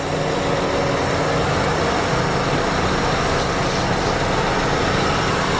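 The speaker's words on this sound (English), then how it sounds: "16-valve 4-cylinder engine appears to run in very good order." A 1999 Toyota Corolla's 16-valve four-cylinder engine idles steadily, giving a continuous, even hum with a faint low rumble and no revving throughout.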